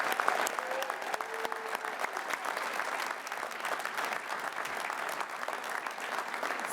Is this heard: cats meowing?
no